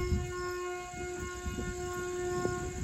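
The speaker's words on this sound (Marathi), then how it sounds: "इथून रेल्वे स्टेशन जवळ रेल्वे जाऊ देते" A train runs near a railway station beside farm fields at night, a steady rumbling roll with sustained tonal hum of wheels and rails at moderate distance, with no talk.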